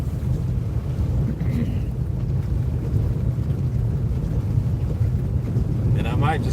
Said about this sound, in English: But that wind is blowing pretty good.